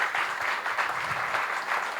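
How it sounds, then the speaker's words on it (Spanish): A crowd applauding with steady, dense clapping that holds at an even level for the whole stretch, fairly close. "Un fuerte aplauso para Leandro y Rosario."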